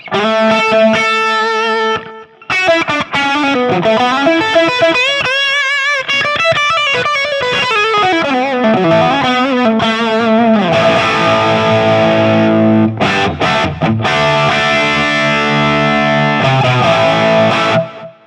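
An electric guitar played through an FM9 modelling a Plexi 100 amp with added delay rings out loud and distorted, sustained chords and bending lead notes trailing echoes, alone without talk.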